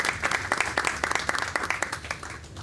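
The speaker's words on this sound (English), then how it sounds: "allowing us to give you a round of applause." A round of applause in a county committee meeting room, a modest group clapping in quick uneven bursts that fade slightly over a few seconds.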